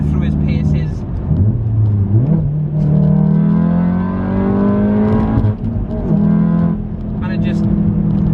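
A car fitted with BC Racing coilovers and AD08R tyres drives along with its engine revving up and down through the gears, a steady loud drone with rising pitch sweeps, while a person talks over it.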